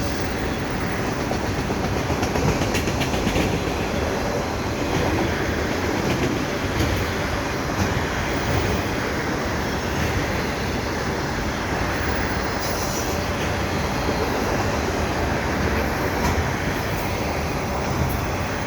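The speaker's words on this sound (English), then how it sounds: "And that's the end of the train right there" A long CN freight train with double-stack containers and auto racks rolls past close by, a continuous heavy rumble with rhythmic wheel clatter and squeaks, steady throughout with no talking.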